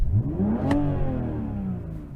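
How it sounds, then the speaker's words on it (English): An older-generation BMW M4 engine revving, a single rising blip of engine roar followed by a sustained, slowly fading growl, loud and close with no talking over it. "So I'm going to rev up this car."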